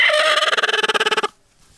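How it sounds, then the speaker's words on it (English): A broody hen gives a short burst of rapid, pulsing clucks, loud and close for just over a second before cutting off to near silence. "I think we have another broody hen."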